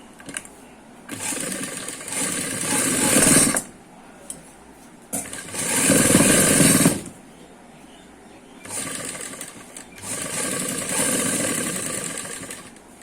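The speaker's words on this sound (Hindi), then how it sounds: "यहाँ पे हम सिलाई लगा लेंगे" A sewing machine stitches palazzo (narrow) ladies' pants in three loud runs of steady whirring, each about two to three seconds long and separated by quiet pauses, close by.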